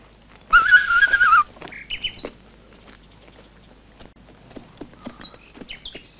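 A sharp, bright human whistle calls a horse outdoors, one loud sustained warbling blast near the start, followed by quieter clicks and faint chirps.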